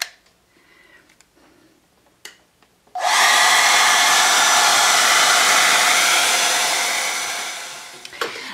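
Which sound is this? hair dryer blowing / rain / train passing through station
hair dryer blowing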